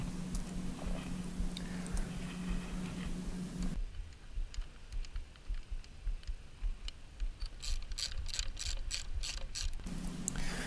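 Screws being tightened on Lightech rearsets fitted to a 2015 Ducati Panigale 899, heard as a quick series of close ratcheting clicks from a hand tool over a quiet background hum, with no speech.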